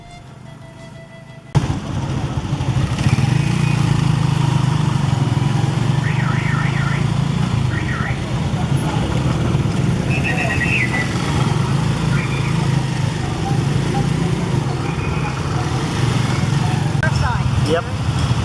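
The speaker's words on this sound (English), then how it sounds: "I love riding in motorised tricycles" A motorised tricycle mototaxi rumbles along the streets of Iquitos, Peru, while a passenger rides it. A steady, close engine drone starts abruptly and holds throughout, with faint chirps and street noise over it.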